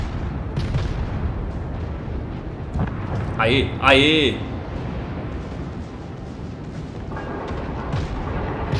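Naval gunfire from the tier III cruiser Charleston in World of Warships, with steady rumbling battle noise throughout, a few sharp shot transients and a louder burst mid-clip, while a man calls out over it.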